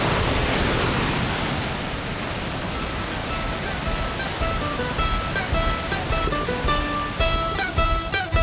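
Continuous roaring rush of a waterfall on the Tour du Mont Blanc trail, broad and loud, with gusty noise on top; no voices.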